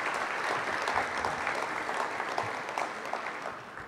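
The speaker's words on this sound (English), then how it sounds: "give him a round of applause for being here" Even, sustained applause from an audience at a panel event on the Black community and law enforcement, fairly soft and continuous, with no talk over it.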